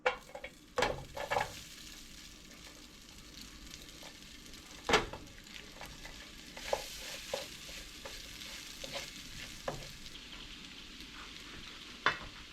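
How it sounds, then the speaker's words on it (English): A vegetable pancake fries in olive oil in a pan over medium heat, giving a steady, soft sizzle with occasional louder scrapes and taps of a utensil, with no talking. "just kind of turn the heat to medium and just let it fry for a little bit"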